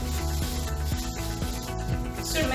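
Mosaic grout is spread by hand and pressed into the gaps between tiles, giving a close, continuous rough scraping and rubbing with uneven strokes and no voices.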